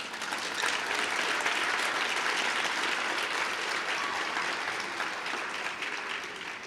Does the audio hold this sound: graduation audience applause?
yes